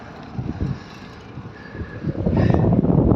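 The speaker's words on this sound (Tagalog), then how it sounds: "Malakas ang hangin." Strong wind gusts around a vacant former porcelain plant, rumbling against the microphone in uneven bursts that build louder toward the end.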